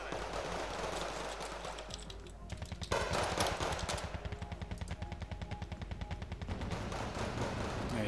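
Rapid automatic gunfire from an aircraft strafing run in the Wargame Red Dragon strategy game, with dense bursts of shots that start abruptly partway through and keep rattling loudly over continuous battle noise.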